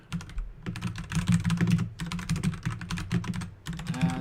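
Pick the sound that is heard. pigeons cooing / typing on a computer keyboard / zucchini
typing on a computer keyboard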